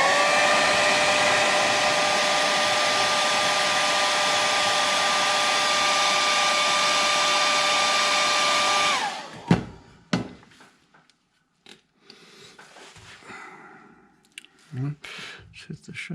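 Hair dryer blowing over a watercolor painting, a loud steady whooshing roar for about nine seconds before switching off, followed by quiet handling clicks and knocks.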